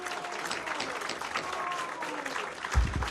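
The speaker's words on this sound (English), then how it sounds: "Will you please stop clapping?" An audience claps continuously at a city council meeting in Salem, Massachusetts, a steady wash of applause with a thump near the end.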